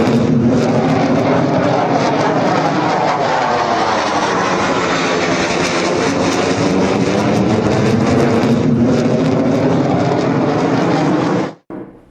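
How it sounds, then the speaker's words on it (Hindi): A US F-15 fighter jet's engine roars loud and continuous at close range, holding a dense, powerful rumble with a shifting whine before cutting off abruptly at the end. "ये है अमेरिका का F-15 फाइटर जेट, जो अमेरिका का एक घातक विमान माना जाता है।"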